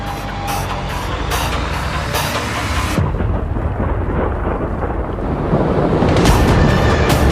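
Thunder cracks and rumbles repeatedly through steady heavy rain during a severe storm east of Altus, loud and close, the rain roar swelling louder toward the end with no voices.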